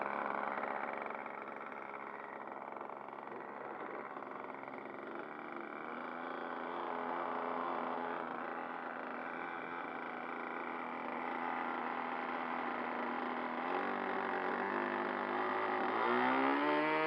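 A Kraft Single Stick model airplane engine runs steadily with a high, buzzing whine. It holds its pitch for a long stretch, then climbs near the end as it revs up.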